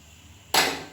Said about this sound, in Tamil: தேவையான அளவுக்கு தண்ணி சேர்த்துட்டு மிக்சியில் இருந்த தண்ணி கொஞ்சமாக சேர்க்குறேன்.